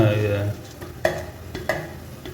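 Camel meat curry mixture in a pan sizzles while being stirred, with two or three distinct scraping strokes over a faint frying hiss, following a brief low hum at the start.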